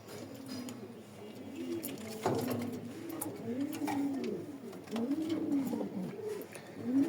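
Racing pigeons coo softly in a loft, with repeated low, rolling, bubbling calls overlapping from several birds, fairly faint over a faint hum of background noise.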